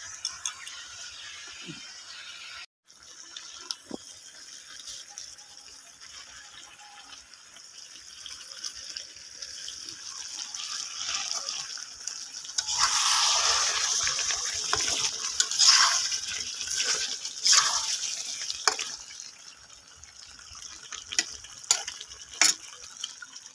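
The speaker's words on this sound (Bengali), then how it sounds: "বন্ধুরা জল দিয়ে দিচ্ছে" Water poured into a pot of chicken curry on the stove, a broad hissing splash that swells midway and continues with clinks and stirring, close and moderately loud, no talking.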